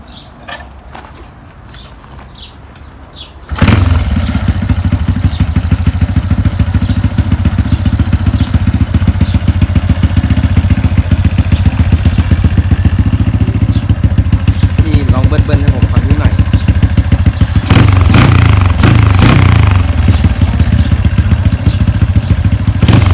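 Honda Wave125s motorcycle with a loud aftermarket exhaust starts up after a quiet moment, then idles with a steady, heavy, close throb and several sharp revs toward the end, with no one speaking.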